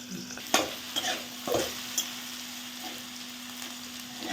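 Potato pieces shallow-fry in a pan with peanut, a soft steady sizzle broken by a few sharp scraping stirs near the start, close and fairly quiet.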